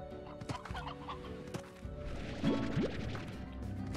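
Chickens cluck and squawk in the video game Slime Rancher, a few short fowl calls over a busy bed of game sounds and music.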